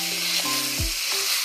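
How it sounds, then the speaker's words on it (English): Ground beef with garlic, red pepper and onion sizzles steadily in a hot pan, a close, continuous crackling hiss with a few soft scrapes as it is stirred. "We're going to let it continue to cook until it's all brown."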